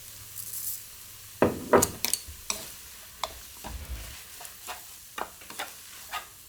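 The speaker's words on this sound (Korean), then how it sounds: "건나물은 꼭 물을 줘서 이렇게 한번 찌듯이 볶아주는 게 팁이에요" Stirring and scraping in a pan over a faint sizzle as dried sweet potato stems are stir-fried, with scattered clacks and scrapes of a utensil, close up, no talking.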